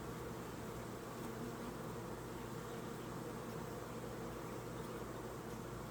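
A dense, steady buzz of many honeybees swarming around an open hive during an inspection, continuous and loud throughout with no talking.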